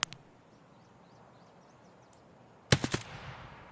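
Gunfire in Escape from Tarkov: a sharp shot at the start, then faint bird chirps in the background, then a loud burst of several quick rifle shots with echo trailing off.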